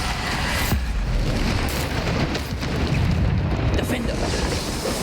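In the video game Hogwarts Legacy, Bombarda spell explosions burst as loud, heavy booms within dense, continuous combat noise.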